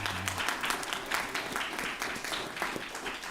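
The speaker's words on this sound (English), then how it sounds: "You can applaud, folks." Audience applause at a regular town council meeting honouring student project winners, a steady wash of many hands clapping throughout, fairly even and moderately loud with no distinct voices.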